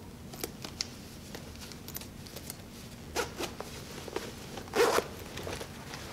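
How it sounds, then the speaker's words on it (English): An extender is zipped into a Prima bra, a series of light clicks and fabric rustles ending in one short, clear rasping zip near the close, heard up close with no talking. "zip it up again."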